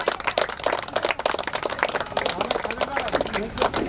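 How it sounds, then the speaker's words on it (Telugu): A crowd at a Ganesh immersion procession claps in loose, rapid bursts, close and lively, with voices babbling underneath. "చప్పట్లు కొట్టండి అందరు గట్టిగా."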